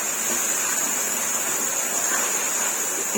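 Chana daal masala frying in a pan hisses and sizzles after a splash of water, a steady, dense, close sizzle holding evenly throughout with no talking.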